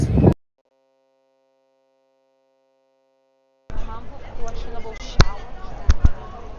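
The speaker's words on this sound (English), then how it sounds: "it's very windy now" Buffeting wind rumbles against a microphone on a street in Porto's Baixa district after a short silence, with gusty low roaring and a couple of sharp knocks.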